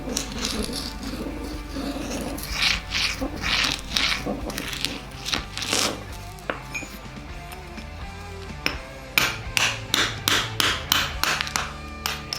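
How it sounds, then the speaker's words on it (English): A hammer is dragged and tapped across a spalling concrete surface to find hollow spots: repeated scraping and tapping, a run of rattling knocks and clinks that grows into sharper, evenly spaced strikes near the end. "dragging a hammer across the surface and listening for the hollow sound"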